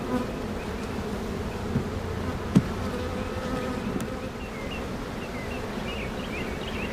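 Honeybees buzz around an opened, overwintered hive, a dense steady drone close by with individual bees whining past, one sharp click partway through and no talk.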